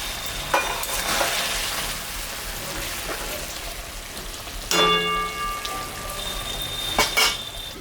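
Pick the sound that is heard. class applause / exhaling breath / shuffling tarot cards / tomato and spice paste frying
tomato and spice paste frying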